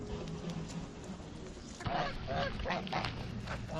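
Domestic geese honk at a rural pond, a quiet stretch of background noise followed by a run of loud, repeated nasal honks close by.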